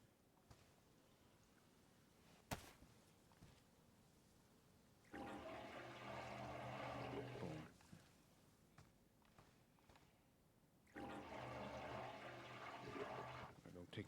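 Crops are watered in the survival video game DayZ: two separate bursts of splashing, pouring water, each lasting a couple of seconds, stand out against a quiet background, and a brief click comes before them.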